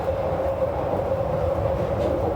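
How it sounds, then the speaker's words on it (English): A London Underground tube train runs steadily through a tunnel on the Baker Street line at rush hour, with a continuous loud rumble and a sustained mid-pitched whine, close and unbroken, with no voices. "Now this is what I expected a London tube to be like."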